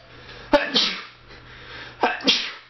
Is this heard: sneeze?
yes